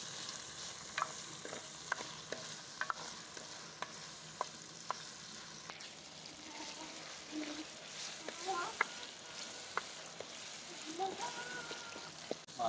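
Tomatoes and green chillies sizzle and fry with onions in a pot for mutton paya, a soft steady hiss with scattered sharp pops and occasional stirring clatter, fairly faint and close.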